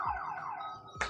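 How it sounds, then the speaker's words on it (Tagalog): A parked car's alarm sounds on a street at night, a loud wailing electronic tone sweeping up and down for about a second with a brief burst at the end. "Uy, nag-alarm yung kotse."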